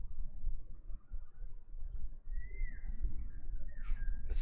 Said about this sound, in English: Is that the bird I'm hearing? Yes, it's the bird.